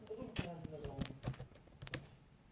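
Typing a search for pop songs on a keyboard, with a run of irregular clicking taps heard alongside people talking in the room.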